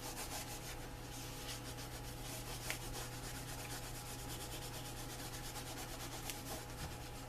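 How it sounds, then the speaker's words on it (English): Oil finish rubbed by hand over the surface of a leather knife sheath, a steady close scratchy rubbing texture with rapid repeated strokes under a constant low hum, no talking. "Just a nice coating, nice even coating over the surface of the leather."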